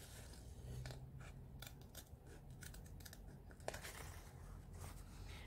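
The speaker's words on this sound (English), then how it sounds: "Like if I have this curve, I will use my scissors like this," Repeated close snips and crisp cuts of scissors cutting curves through paper, with faint rustling between strokes and one sharper snap midway.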